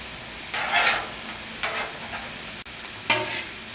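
Mushrooms sautéing on a griddle for a mushroom cheese steak, a soft low sizzle punctuated by three short bursts of scraping as the spatula turns them, close and without talk.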